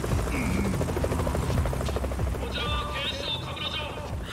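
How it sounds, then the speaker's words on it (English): Helicopter in Yakuza: Like a Dragon, its rotor whirring continuously at close range under game voices and a brief electronic tone. "Is that a fucking helicopter?"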